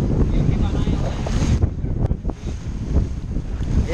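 Strong wind roars across a Catalina 27 sailboat under sail at full speed, steady buffeting and rushing water noise filling the whole clip with a brief lull midway, no clear speech.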